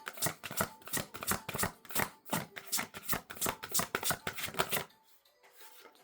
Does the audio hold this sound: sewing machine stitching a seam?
no